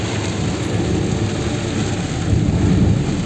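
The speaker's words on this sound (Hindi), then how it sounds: "आप देख सकते हैं रास्ते में कितनी बारिश आ रही है" Heavy rain pours steadily in a dense, continuous hiss with a deep rumble underneath, loud and close, and no voices.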